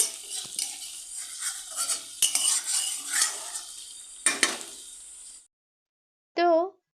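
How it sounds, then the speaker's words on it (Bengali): Chopped coriander leaves being stirred into a fish oil mixture for a Bengali dish, a steady scraping and clinking of a utensil against a pan with faint sizzling, running continuously for several seconds before stopping, followed by a brief unrelated tone. "ধনিয়া পাতাটা দেওয়ার পরে খুব ভালো করে মিশিয়ে নিচ্ছি"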